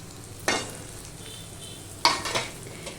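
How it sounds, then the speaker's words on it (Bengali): Chopped tomato going into fried onion paste in a pan for a pomfret fish curry, with two sharp sizzling bursts as it hits the hot oil, followed by stirring scrapes, close and clear with no speech. "এবার দিয়ে দিচ্ছি টমেটো কুচি নিয়ে"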